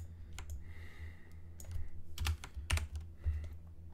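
Typing on a computer keyboard to enter a shortcut: a few quiet, close clicks and key taps in a short irregular run, alone without speech.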